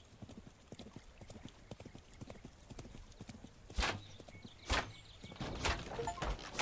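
Horse hooves clip-clop in the minimalist tower defense game Thronefall, a quick, soft, regular trotting rhythm with a few sharper game effect hits layered in toward the end.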